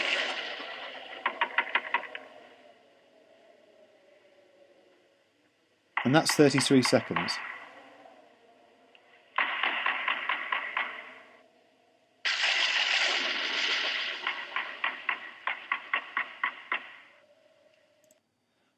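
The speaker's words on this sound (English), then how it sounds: "let's play the knocking on the door cue" A knocking-on-a-door sound effect plays as a short burst of quick, sharp raps in the middle of the stretch. Someone talks before and after it.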